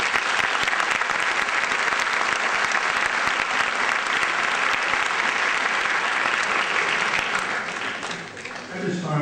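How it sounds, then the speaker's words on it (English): Loud, sustained applause from a large audience at a 2006 high school graduation ceremony fills the hall evenly for several seconds, then begins to taper off. "Please give him a round of applause."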